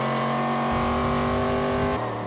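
Panoz GTS race car at Road Atlanta, a loud, close engine roar with a rising, buzzing note and crackling gear-change stutters, ending on a brief dip as it passes.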